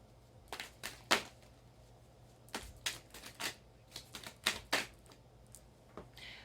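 Tarot cards being shuffled and flipped, a series of crisp papery slaps and riffles arriving in irregular bursts, fairly close and quiet, with no talking.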